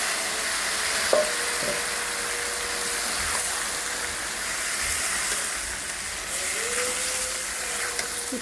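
Onions and panch phoron sizzle steadily in hot oil in a pan, the first step of a mixed-vegetable dish with banana stem; a constant close frying hiss with a few faint clinks and no talking.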